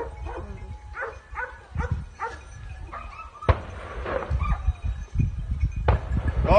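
Several dogs near a cliff bark, yip and whimper in short, uneven bursts, close and fairly loud, with rustling and scuffling between the calls.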